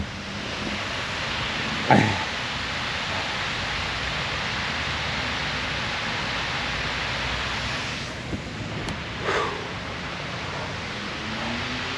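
A steady broadband rush of falling water, like a waterfall heard from a short distance, fills the scene evenly for twelve seconds, broken only by a couple of faint brief knocks.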